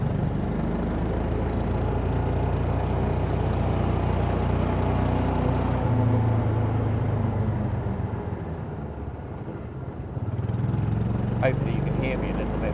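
The small engine of a Secma Qpod 340 microcar idles and runs steadily with a throaty, rumbling exhaust, close by, with a brief dip in loudness partway through.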